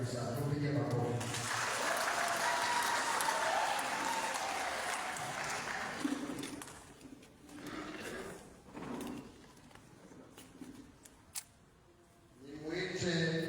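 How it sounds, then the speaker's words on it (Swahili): Congregation at an evening prayer service for a diaconate ordination in a parish church clapping together, a sustained burst of applause that fades out, followed by a speaking voice and scattered clicks. "Tupige makofi."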